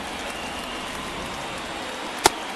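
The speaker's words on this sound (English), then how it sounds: "This rain is not letting up." Steady, dense rain hisses over a baseball game in MLB The Show 23, a continuous wash of drops with one sharp click near the end, and no voices.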